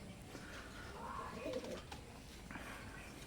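Soft, low cooing of teddy pigeons nearby, faint against a quiet background hum.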